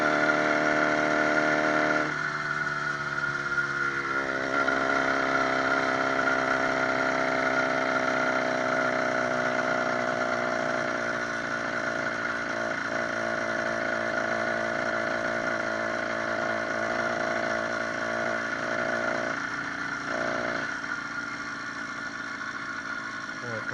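A 66cc motorized bicycle engine runs continuously at a steady buzzing drone throughout, close and fairly loud, with brief talk heard over it.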